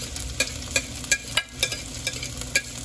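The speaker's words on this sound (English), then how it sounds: "we're gonna let it saute in the oil for a little bit" Onion, pimento and pepper sautéing in hot oil while being stirred, a steady sizzle punctuated by regular scraping clicks of a spoon, close and clear with no talking.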